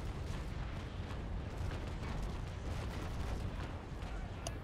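Naval Action cannon fire from double-shot loaded guns, a dense continuous rumble of booming broadside blasts layered over one another without a break, heavy and loud throughout.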